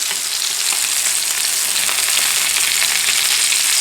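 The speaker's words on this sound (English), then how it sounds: "So you try to fry it on each side" Stuffed chicken breast sizzles steadily in a hot frying pan, a loud, continuous close-up hiss with no voices.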